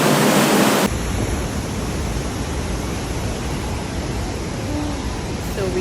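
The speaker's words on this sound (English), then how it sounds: "So we would get to see gushing waterfalls like these from 10 different locations." A gushing waterfall in the Lauterbrunnen valley of Switzerland roars as a loud, steady broadband rush that fills the whole stretch, close and unbroken, after a brief louder burst at the very start.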